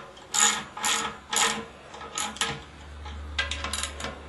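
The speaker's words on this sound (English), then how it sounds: "Now he's got the ratchet out with the one socket that we can find" A ratchet fitted with an 11 mm socket tightens bolts while a Big Green Egg Large Egg grill is being assembled, giving several bursts of quick clicking with short pauses between them, close and clear with no voices.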